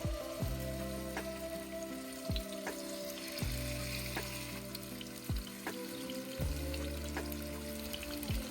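Pompano fish pieces fry in hot oil on a tawa, a steady close sizzle broken by a few soft clinks and pan taps spaced every second or so.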